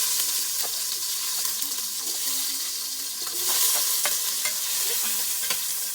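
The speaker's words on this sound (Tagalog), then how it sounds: "lagyan na natin ang sibuyas." Onions sautéing in a pan with ginger and tomato for milkfish sinigang, a bright, continuous close sizzle with occasional stirring clicks and scrapes, no voices.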